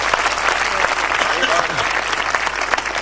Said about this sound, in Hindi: मैं चाहता हूं दोनों रचनाकारों के लिए एक बार तालियां वालियां बजा दें।